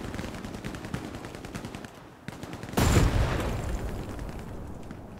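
Hell Let Loose battle sounds: rapid machine-gun rattle that gives way to a loud close explosion and more gunfire trailing after it, all without talk.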